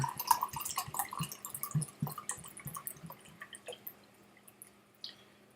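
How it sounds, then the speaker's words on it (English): Water pours into a whisky glass, a close, quiet run of trickling and dripping splashes that gradually thins out, ending with a last soft drip. "Let's just get me some more water in here."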